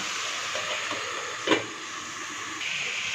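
A lid is set onto a cooking pan with hissing contents: a single quick clink cuts through a steady sizzle that carries on underneath, no talk.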